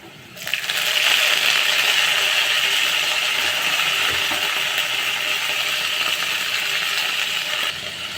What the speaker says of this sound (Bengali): কালো জিরে দিয়ে একটু নাড়াচাড়া দেওয়ার পরেই আমি সজনে ফুলগুলো দিয়ে দিচ্ছি